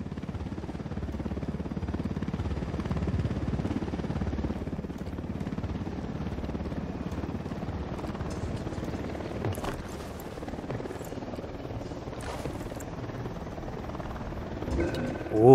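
Helicopter rotor drone in the video game Ghost Recon Wildlands, a steady low thumping rumble running throughout with occasional gunfire-like transients and brief game sounds layered on top.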